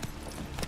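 Roach, a horse in The Witcher 3: Wild Hunt, gallops in a brief, faint burst of hoofbeats, a couple of soft clip-clop thuds standing alone.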